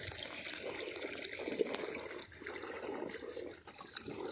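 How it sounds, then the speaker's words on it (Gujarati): Irrigation water runs along a long furrow into a groundnut field, a soft, steady trickling flow heard faintly and unbroken, with no one talking. "બાકી આવી રીતે નિરાતે પાણી વાયરે રાખવાનું છે"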